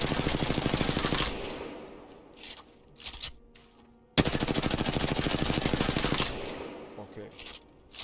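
Automatic weapon fire in Apex Legends, long sustained bursts sprayed at a wall, loud and rapid, broken by a pause and a few short bursts in between.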